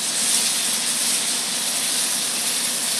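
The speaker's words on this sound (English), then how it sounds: "Probably take about 10 minutes to sear all this meat" Steady, loud sizzling hiss of steak meat searing on an outdoor grill, broad and unbroken throughout with no talking.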